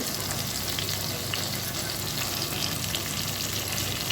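Onions and tomatoes sauté in a pan with a loud, steady sizzle and crackle, close and continuous with no talk over it.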